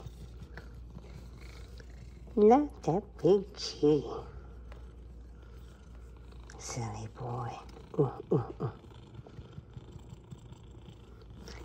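A cat purrs with a low, continuous rumble while a person talks softly and affectionately nearby.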